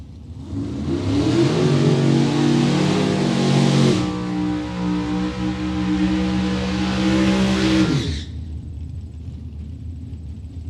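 Super Pro drag race cars launching and accelerating, loud roaring engines climbing in pitch over about four seconds, a brief shift or lift, then another sustained howling run that cuts off sharply, leaving a low rumble.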